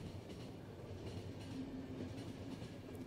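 A train in the game The Final Station rolls along the railroad with a steady, low, continuous rumble. Faint rhythmic clatter and a thin high tone sit over it, quiet and unbroken, with no voices.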